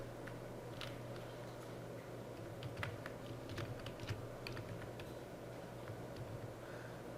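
Keystrokes on a computer keyboard while writing Excel VBA code, an irregular stream of light, close clicks over a steady low background hum, with no talking.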